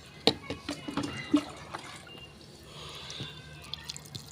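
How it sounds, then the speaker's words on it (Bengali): Water poured slowly from a container onto freshly planted sweet potato and bitter gourd seedlings in garden soil, giving soft scattered drips and splashes, a few sharper taps early on, then a faint steady trickle, fairly quiet and close. "আস্তে আস্তে ঢালবেন"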